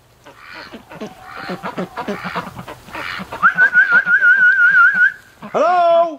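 Breeding ducks in deep snow quack in rapid, clustered bursts, close and loud, as a wavering whistle rises over them and a sharp honking call cuts in at the end.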